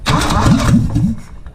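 A 1981 right-hand-drive Honda SJ Accord engine cranks loudly up close with a quick rhythmic starter whir, then catches and fires within about a second before settling.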